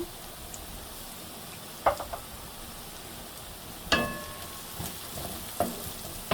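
Steady, soft frying hiss of chopped onion and garlic in a pan for Methi Saag, broken by a few sharp spoon clinks and scrapes against the metal.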